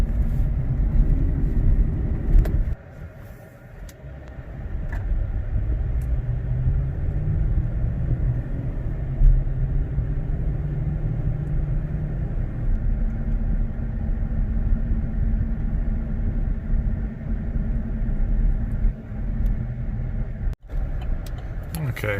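A 2018 Chevrolet Silverado with an aFe Momentum GT cold air intake, heard from inside the cab while driving: a steady low engine drone and road rumble, continuous and fairly loud.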